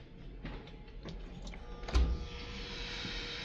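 A Montgomery hydraulic elevator runs at the MBTA Red Line Downtown Crossing station, giving soft mechanical clicks and taps, then a louder clunk midway followed by a steady whirring hum.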